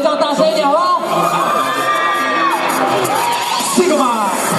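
A crowd at the SIGMA fan signing event at Dream Mall in Kaohsiung screams and whoops with shrill, rising and falling cheers that fill the whole stretch, loud and close.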